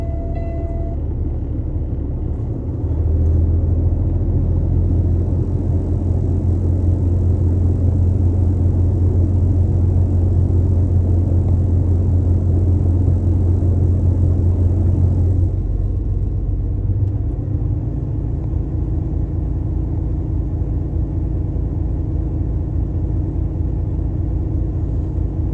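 A truck's air compressor builds brake air pressure while the diesel engine idles, a loud steady low rumble with a droning hum that changes and drops slightly about two-thirds through, with no talking.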